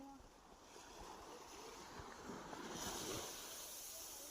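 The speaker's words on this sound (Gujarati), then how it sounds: "મિત્રો મોજા ફૂલ આવે છે આ બાજુ તમે જોવો" Strong sea waves break on the shore at Dwarka, a fairly quiet, rolling wash of surf heard through buffeting wind noise.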